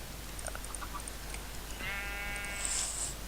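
A single faint sheep bleat from Minecraft, thin and wavering, rises over soft background hiss with a few light clicking blips around it.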